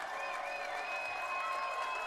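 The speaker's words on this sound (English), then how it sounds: "And the crowd is on their feet on the Sequoyah side." Football crowd cheering at a Sequoyah Chiefs vs Grizzlies game, a steady broad roar with applause sustained throughout, loud and continuous.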